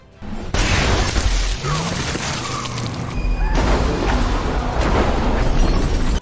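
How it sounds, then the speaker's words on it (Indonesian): A sniper gunshot in a film scene cracks out abruptly near the start, followed by a loud, dense rumbling blast and sustained noisy action sound, with a second surge of noise about halfway through. "pasukan teroris berhasil menembak Grant"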